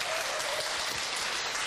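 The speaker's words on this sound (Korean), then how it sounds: "이 정도로 박수로는 이게 너무 약한 것 같은데" Steady applause from an audience, dense clapping filling the whole moment without pause.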